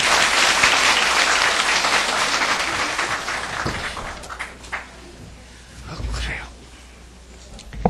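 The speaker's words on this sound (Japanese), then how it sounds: "どうぞ感謝の拍手でお送りください" Applause from an audience at a lecture hall gathering begins loud and dense, then gradually thins and fades as scattered claps and shuffling remain, with faint voices toward the end.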